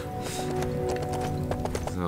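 Horse hooves clip-clop steadily in the LEGO Lord of the Rings video game during the Pelennor Fields battle, a quick repeated rhythm mixed with game music and a speaking voice.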